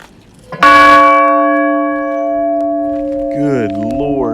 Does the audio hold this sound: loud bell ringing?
yes